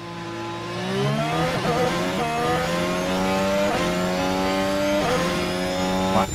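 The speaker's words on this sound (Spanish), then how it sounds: "suenan diferentes los motores." Formula 1 car engines race in the F1 Manager 2023 game, a loud continuous high-pitched whine climbing through repeated gear shifts, with no talking.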